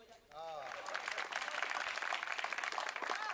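An audience at a Hindi comedy poetry show (hasya kavi sammelan) breaks into thick, steady clapping just after a voice trails off. The applause stays full and even throughout, with a voice faintly returning at the close.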